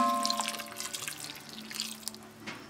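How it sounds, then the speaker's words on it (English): About a cup of water is poured into a pan of vegetables to steam them while cooking Italian meatloaf, giving a splashing, dripping trickle that runs steadily and close by. "Now I'm going to add a little bit of water to let these vegetables steam a little."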